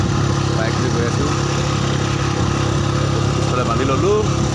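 A motorbike carrying a load of cut taro tied behind rides along a road toward home, its engine humming in a steady, close mid-pitched drone that holds evenly throughout.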